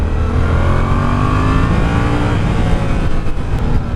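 A 2017 Yamaha FZ-07 motorcycle accelerates with a loud, steady engine roar that rises in pitch throughout, heard close and without talking.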